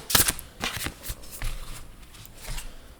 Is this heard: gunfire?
no